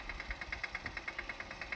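A diesel tractor engine chugs steadily at a quick, even rhythm, with a low throbbing pulse, heard at a modest distance in a farm field.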